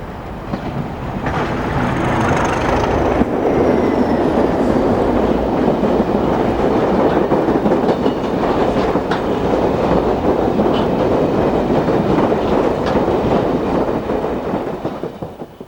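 An EWS Class 31 diesel locomotive train passing close by with a loud, steady rumble and rhythmic wheel clatter, a faint high squeal drifting over it early on, fading slightly at the end.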